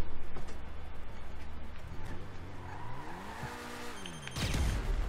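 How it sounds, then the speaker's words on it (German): Cars skidding with squealing tires in the video game GTA V Online, a sweeping tire squeal rising and falling over a steady engine drone, followed by a louder burst near the end. "Ich höre wieder Autos."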